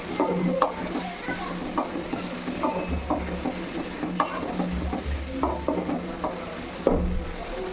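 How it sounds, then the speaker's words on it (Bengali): Boiled, pre-fried potatoes sizzle with masala in a pan while a spatula stirs them repeatedly, producing rhythmic scrapes and knocks over a constant frying hiss, close and clear. "আমি আলুটা হচ্ছে মশলার সাথে একবারে কষাই"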